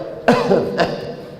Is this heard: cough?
yes